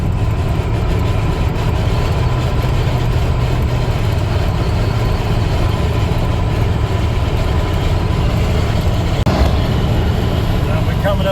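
A Ford F-150 with a 5.8 liter V8 tows a load at about 70 mph on the highway, giving a steady, loud engine drone under constant road and wind roar for the whole stretch.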